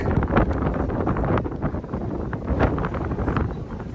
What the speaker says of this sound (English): Trying to shield the camera from the wind